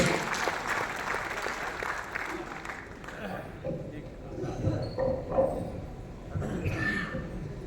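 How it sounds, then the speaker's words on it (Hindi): Audience applause at a Hindi poetry event (kavi sammelan), a moderate crowd clapping steadily and fading as someone speaks over it through the hall's sound system. "आप सबकी सामूहिक तालियों का खूबसूरत गुलदस्ता हमारे उस कवि के लिए"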